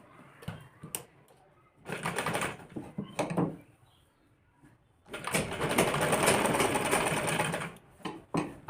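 Sewing machine running thick stitches along a kurti collar, in short stop-start bursts followed by one longer steady run, close and fairly loud.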